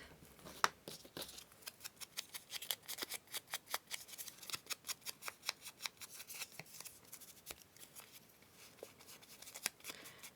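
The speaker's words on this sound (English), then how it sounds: "I'm going to tear that bottom piece away" Paper is torn away in a rapid run of crisp ripping pulls to make a journal pocket, close and fairly quiet, with scattered rustling handling noises before and after.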